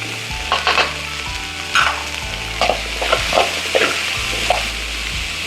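Beans and vegetables sauté in a pan for avarekalu upma, a steady close sizzle broken by repeated scraping stirs of a spatula roughly every second.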